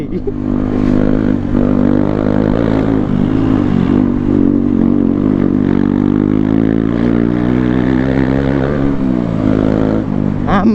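A KTM Duke 250 motorcycle fitted for a loud exhaust, ridden hard: a continuous close, loud engine roar that rises and falls with throttle, with wind rush throughout.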